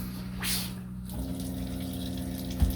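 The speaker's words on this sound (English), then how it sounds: "what happens is the water pump brings the pressure in the system to a certain level" An RV's onboard water pump, in a Majestic 23A motorhome on a Ford E-350 chassis, drones steadily while pressurizing the freshwater system during de-winterizing, with a brief burst of rushing water early on and a small knock near the end.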